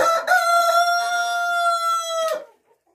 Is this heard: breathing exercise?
no